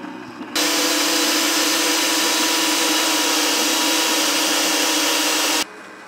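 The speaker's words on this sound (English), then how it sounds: "I'm just gonna drill a hole through the silicone elbow here" A drill bores a hole through a silicone elbow on a car's intake, a steady loud whine that starts abruptly, runs for about five seconds and cuts off.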